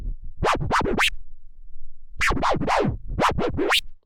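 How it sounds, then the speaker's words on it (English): Faderless tear scratches on a vinyl turntable: a run of three rapid swooping zips, a pause, then a longer burst of quicker scratches, loud and up close. "The second one is a tear scratch."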